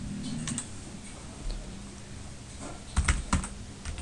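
Quiet computer keyboard typing during a Linux server setup on RHEL7 and CentOS7, with scattered soft keystrokes and a short cluster of sharper clicks near the end, close and unaccompanied by speech.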